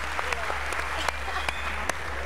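Applause from a studio audience on a Turkish talent show, a steady wash of clapping with a few sharp, louder claps, beside a constant low hum.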